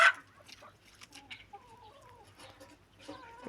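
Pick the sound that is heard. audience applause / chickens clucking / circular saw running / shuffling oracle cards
chickens clucking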